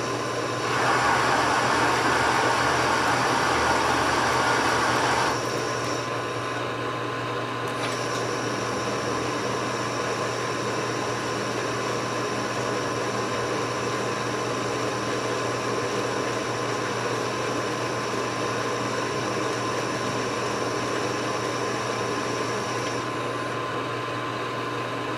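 A metal lathe cuts a thread on a tailstock chuck with cutting oil applied, a loud steady motor whine and machining hiss running continuously, louder and brighter for the first five seconds, with no talking.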